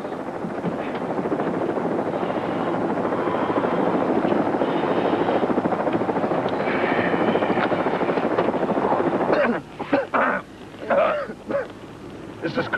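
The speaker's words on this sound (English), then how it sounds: "The chopper's up there, I heard it." A helicopter drones continuously overhead with a steady rotor thrum during a 1976 rescue drama, then voices break in near the end as the engine noise carries on.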